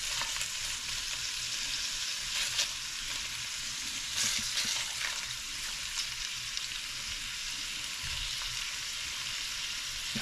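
Pieces of Chinese-style pork belly fry in a pan over medium heat, giving a steady, close, crackling sizzle with occasional louder pops throughout.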